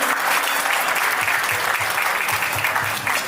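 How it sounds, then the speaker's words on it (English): Dense, steady applause fills a banquet hall as an audience at a Republic Day celebration welcomes the evening's MC, a loud continuous wash of many hands clapping without pause. "a huge round of applause to our MC of the evening"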